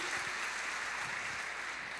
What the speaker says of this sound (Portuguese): Você pode dar uma salva de palmas ao Senhor pela vida do nosso irmão?